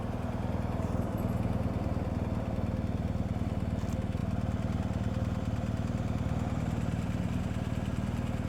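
A motorcycle idles and rumbles close by in a steady low drone on a road, with no talk over the engine.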